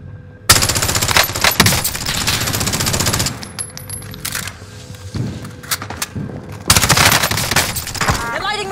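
Video game gunfire rattles in dense, loud automatic bursts with scattered single shots and clinking casings, while voices speak over the shooting.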